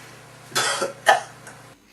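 A pair of strong, close assisted coughs in quick succession, each a harsh burst of breath driven by a hand push on the chest, followed by a faint exhale.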